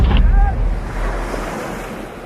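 Sea waves breaking on a Somaliland beach, a loud, continuous surf wash with heavy wind rumble on the microphone, strongest at the start and then easing into a steady roar.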